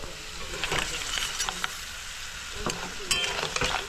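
Chopped spices lightly frying in a pan while prawns from a pond are cooked, giving a steady close sizzle with scattered stirring scrapes and crackles throughout, no voices.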